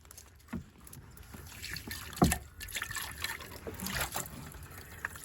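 Vinegar pours and trickles into a container holding caked-on cast iron in short splashy bursts, close by and fairly quiet, with a few knocks and handling sounds.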